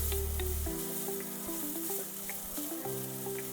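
Carrots sauté in a pan for a carrot makhana kheer, giving a close, continuous sizzle with faint stirring.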